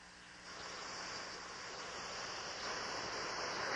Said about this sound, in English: now I'm going to blow a stream of air against the inner edge of these pages